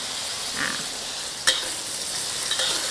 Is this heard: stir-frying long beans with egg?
yes